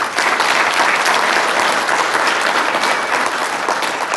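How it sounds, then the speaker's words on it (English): Loud, sustained applause from the audience at a State of the City address in Port St. Lucie, a dense even roar of clapping filling the whole stretch without speech. "You got to give them a round of applause."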